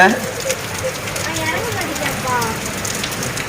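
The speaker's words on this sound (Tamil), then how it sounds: "நல்ல மழை பெய்யுது" Steady, dense patter of heavy summer rain pouring down close by outside a house, a continuous hissing wash with scattered drips throughout.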